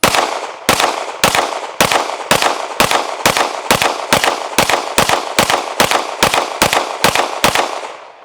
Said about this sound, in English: So we're gonna keep shooting and see if anything more pops up.